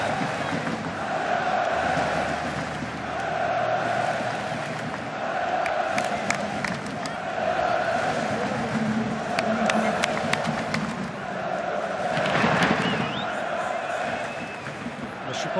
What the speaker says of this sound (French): Là, c'était des applaudissements